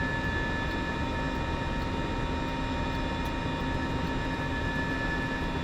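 Turbine engine of a Mil Mi-2 Hoplite helicopter running up in a flight simulator, a steady whining drone with sustained tonal hum, even and unchanging in loudness, no talking.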